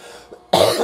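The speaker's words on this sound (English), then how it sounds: "I'm coughing too much" A single sharp, loud cough bursts out after a brief quiet moment, close and harsh.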